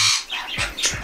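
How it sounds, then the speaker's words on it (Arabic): Pet birds in an indoor bird room give harsh, loud squawks and shrill calls in a quick burst of several overlapping cries. "فتحملوا صوت الطيور هماتين"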